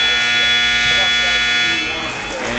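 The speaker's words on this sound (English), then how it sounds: "They will award 3 points right at the buzzer there for Jacob Lukey." A loud, sustained electronic buzzer ends the first period of a high school wrestling match in a gym, droning steadily for about two seconds before fading, with crowd noise and an announcer's voice underneath.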